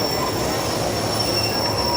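Heavy train rolling steadily past a Pakistani station, with a continuous loud rumble of wheels and a thin, sustained metallic squeal above it for the whole stretch.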